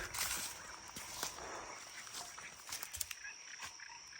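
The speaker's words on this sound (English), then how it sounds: "Frogs going crazy." Frogs croaking loudly at night near a creek with beaver traps, a dense chorus of rapid calls and clicks over steady insect-like hiss, with scattered sharper pops close by and no talk.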